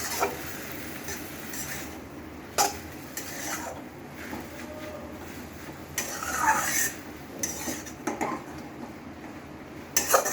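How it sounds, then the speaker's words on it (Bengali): Jute leaves being stirred in a metal pot with a utensil, producing intermittent scraping and clinking of spoon against pan at close range, with soft rustling between the louder knocks and no voices. "একটু নাড়াচাড়া করে জল দেবো"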